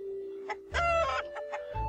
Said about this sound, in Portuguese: Chamar as galinhas.